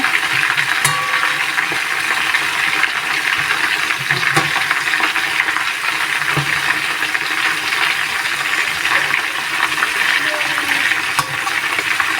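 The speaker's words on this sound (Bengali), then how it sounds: "আমি এগুলোকে একদম লাল করে ভেজে নেব।" Chicken pieces frying in spiced biryani masala in a pot, a loud, steady sizzle and bubbling carrying on throughout, with occasional scrapes and clinks of a spoon.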